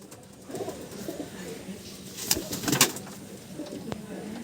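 Andhra pigeons in a loft give soft, low cooing calls, fairly faint and near, with some louder rustling or flapping bursts midway over a quiet background.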